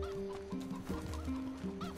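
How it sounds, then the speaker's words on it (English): Chickens cluck in steady, overlapping bursts in the video game NieR Replicant, set against a droning, tonal game background with no talk. "The chickens are still alive."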